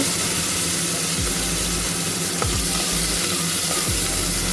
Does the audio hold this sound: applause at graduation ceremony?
no